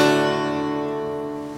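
A single bright, happy guitar chord strummed once and left to ring, its sustained tones fading steadily over about a second and a half.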